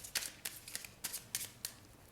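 Tarot cards shuffled by hand during a Hindi/Urdu general reading, giving quiet, crisp riffling flutters in short irregular bursts, close up, with no speech over them.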